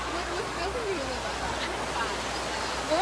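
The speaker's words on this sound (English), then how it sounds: "It's raining!" Steady rain falls outdoors at a Florida theme park, a soft even hiss with excited voices faintly over it.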